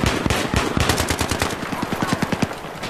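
Rapid gunfire in Battlefield 3 cracks in a fast, steady burst of sharp repeated shots, loud and close throughout.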